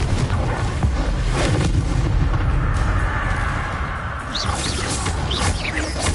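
Confringo explosive spell in Hogwarts Legacy, a loud rumbling blast with crackling debris that roars on continuously, dense and near.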